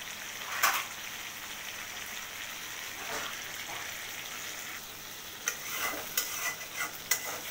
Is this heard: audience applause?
no